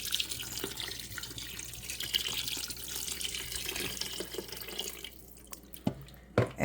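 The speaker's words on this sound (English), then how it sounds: "I'm going to add additional organic vegetable broth." Organic vegetable broth pours steadily into a simmering pot of collard greens, a continuous close splashing trickle that thins out and ends with a few small clinks.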